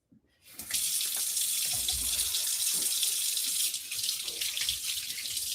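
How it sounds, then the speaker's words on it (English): Hands are washed under a running tap in a kitchen sink, with a steady close rush of water that starts abruptly and carries soft splashing and shifting flow as the hands move through the stream. No one talks. "Let me wash my hands."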